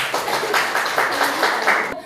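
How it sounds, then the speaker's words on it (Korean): Audience of fire-school trainees applauding during a teamwork workshop, a dense wash of clapping lasting the whole moment, steady and fairly loud before cutting off abruptly. "박수 한번 보내주세요."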